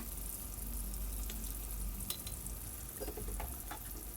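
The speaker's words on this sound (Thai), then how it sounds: "ทอดต่อไปเรื่อยๆ จนมเมล็ดจำปาดะข้างในสุกเรียบร้อยก็เป็นอันว่าใช้ได้ค่ะ" Cempedak fruit pieces deep-frying in hot oil give off a steady, dense crackling sizzle with scattered pops, close and continuous, with no voices.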